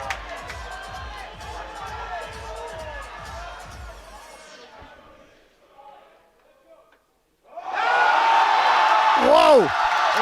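Crowd at a British powerlifting competition in Sheffield chanting an athlete's name in a rhythmic pulse, then fading to near quiet before a loud burst of cheering and whooping, with a commentator talking over it.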